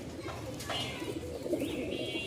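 A male Rajshahi Giribaz pigeon coos in a caged loft, a low rolling call repeated close by, with someone talking over it.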